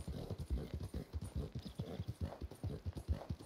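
Rapid rhythmic hoofbeats of an elite horse galloping in Red Dead Redemption 2, a steady clip-clop pattern close and loud, with no talking over it.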